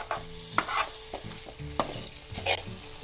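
Thuthuvalai leaves are sautéed in a pan for chutney, a spatula scraping and stirring in several quick close strokes over a soft underlying sizzle.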